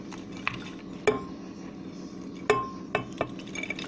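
Sugar-free, flour-free diet cake batter goes into a blender jar, with a few sharp clinks and knocks of utensils against the jar over a quiet kitchen background.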